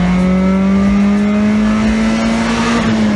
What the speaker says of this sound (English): Let's rev it out.